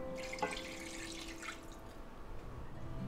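Aged beef juice made from a chuck roast pours into a pan, a soft liquid splash and trickle with a few drips, quiet and close with faint background hum.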